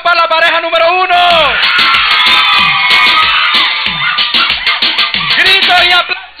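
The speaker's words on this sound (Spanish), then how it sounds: "Un grito y aplauso para la pareja número uno." A crowd screams and shouts loudly and continuously for the first couple at a reggaeton contest, with a sustained wall of cheering and whoops swelling and fading across several seconds.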